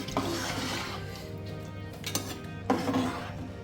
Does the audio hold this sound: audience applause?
no